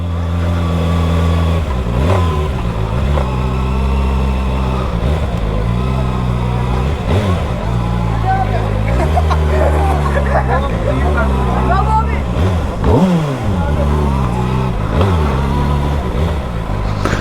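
A Kawasaki 636 motorcycle ridden with no exhaust fitted gives a loud, raw engine roar that rises and falls through repeated revs and gear changes, close and continuous, with a rider talking over it.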